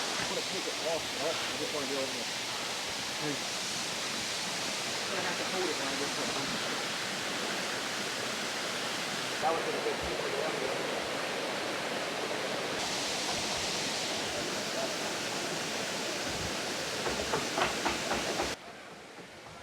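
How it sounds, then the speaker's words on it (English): Continuous broadband rush of a waterfall at Ricketts Glen State Park, steady and loud throughout, dropping off abruptly near the end. "But beautiful, beautiful waterfall."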